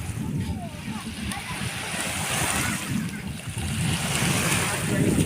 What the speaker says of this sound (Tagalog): Ito po yung tabing dagat po mga kababayan.